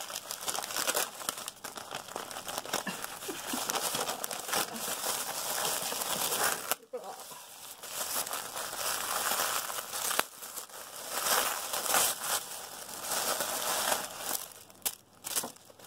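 Gift wrapping paper crinkles and tears steadily as a baby outfit present is unwrapped, a close, continuous crackling rustle with brief pauses and sharper rips throughout.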